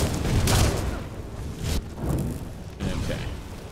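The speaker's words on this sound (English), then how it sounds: "That was an explosion." Explosions in the video game Skyrim, underground in Markarth: several dull, rumbling booms with broadband bursts, close and fairly loud, spaced a second or so apart.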